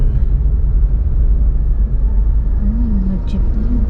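Jeepneys and other vehicles in slow street traffic, a steady low engine rumble close by with a faint tonal whine, while people talk nearby.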